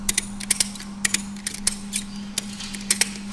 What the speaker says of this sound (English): Now we can begin picking up, cranking on the ratchet strap.